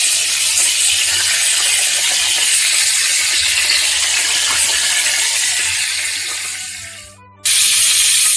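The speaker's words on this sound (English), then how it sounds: "We seared these on medium-high heat." Pork tenderloin cutlets sear in a hot pan on medium-high heat, giving a loud steady close sizzle that dips briefly near the end before surging back.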